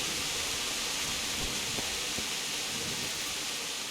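Storm rain in the video game Kingdom Come: Deliverance, a steady dense hiss of falling rain with a few faint low rumbles and no voices.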